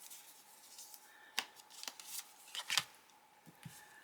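Tarot cards are shuffled quietly, giving soft irregular flicks and riffles, close but faint, with no talking.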